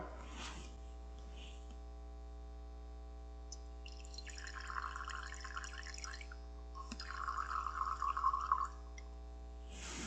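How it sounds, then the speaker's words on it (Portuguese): Distilled water is poured into a laboratory beaker in two short splashing pours that trickle and fill, close and fairly quiet, over a steady electrical hum in a quiet room with no voices. "vou pegar aqui um becker, colocar um pouco de água destilada"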